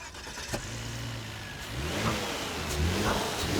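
A Volvo S60 with a 3-litre turbocharged engine accelerates, its engine note rising steadily in pitch and loudness over a few seconds, heard alone without talk.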